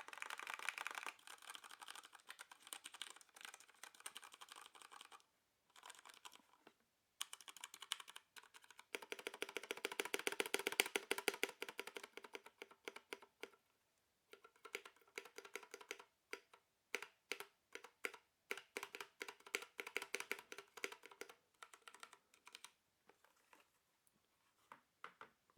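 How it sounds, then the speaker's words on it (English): Rapid pretend typing rattles across a Ducky One 2 Mini 60% mechanical keyboard fitted with Cherry MX Speed Silver switches, dense close clacking runs broken by short pauses, with no voices. "do a key press test to give you some idea of the Speed Silver Cherry MX switches"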